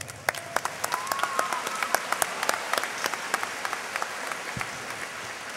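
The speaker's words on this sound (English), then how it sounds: "I think they deserve a round of applause." An audience at a junior high graduation ceremony in a school gym breaks into applause, with many hands clapping in a busy, crackling patter and a few sharper, closer claps standing out throughout.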